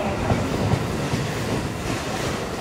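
Shinkansen bullet trains, a Yamabiko and a Tsubasa, rush past as a steady, loud roar of wind and rolling wheels that fills the whole moment without a break.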